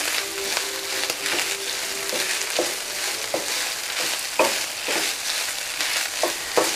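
Ground beef and onions frying in a pan for tacos, a steady close sizzle with intermittent scraping clicks as the mixture is stirred, no talking.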